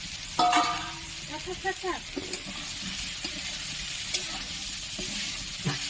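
Fried potatoes stirred into a simmering soybean curry in a pan, giving a steady hiss of frying with scraping stir strokes and a few sharp spatula clinks, fairly close and continuous throughout.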